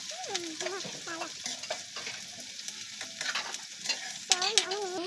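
Onions fry in hot oil for a street-food fishball sauce, a steady close sizzle broken by repeated scraping strokes of a utensil stirring the pan, with faint whistly tones over the frying and no talk.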